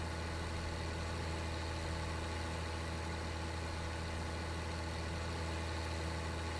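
Tractor engine idling steadily in Farming Simulator 19, a constant low diesel drone with a mid-range hum, loud and unbroken throughout with no talk.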